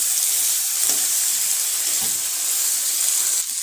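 Diced potatoes sauté in oil in a pan for a Gujarati cluster-bean curry, giving a continuous close sizzle with a few faint knocks of stirring and no voices.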